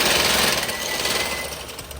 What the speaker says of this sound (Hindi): मोटर से ज़रा कपड़े आसानी से सिल जाते हैं और जल्दी सिलते हैं